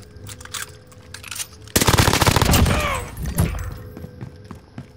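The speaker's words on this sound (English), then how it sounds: "I'm under fire." Rapid automatic gunfire erupts in a Call of Duty Modern Warfare match, a dense burst of close shots with scattered pops and thuds before and after.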